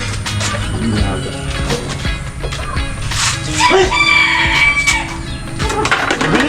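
A rooster crows once amid scattered clucking from chickens nearby, with a brief shout of a human voice mixed in.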